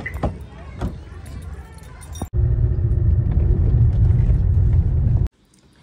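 A car runs with a steady low engine rumble for several seconds at a family outing on a cold evening, preceded by a stretch of outdoor voices and footsteps, then cutting off abruptly.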